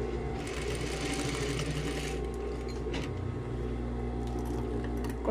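Sewing machine stitching a shirt collar, running a backstitch toward a pointed corner; a steady, close motor hum with needle chatter continues throughout, no voices.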